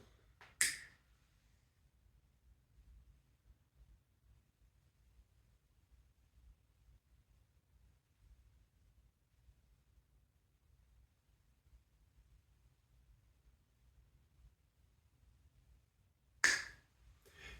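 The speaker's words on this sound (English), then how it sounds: "I'm going to snap my fingers and start the sequence of the motion tracking" Two crisp finger snaps, one at the start and one near the end, separated by a long stretch of near silence with only a low hum in a quiet room.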